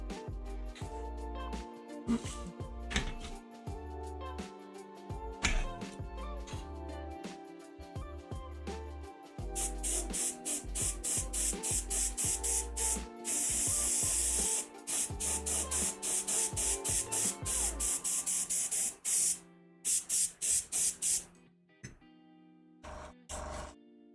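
An airbrush sprays successive white coats onto a Dark Angels Nephilim model jetfighter, bursts of hissing spray starting and stopping in an irregular rhythm, louder and denser in the middle stretch, with quiet handling noises between.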